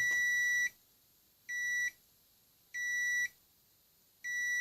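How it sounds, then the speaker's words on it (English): A multimeter set to continuity sounds as a pop-up toaster's lever is pressed: a steady high electronic beep repeats four times, each about half a second to a second long, with short silent gaps between. "If I put it onto continuity and press the lever"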